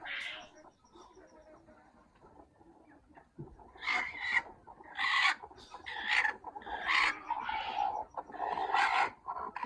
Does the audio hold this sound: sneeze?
no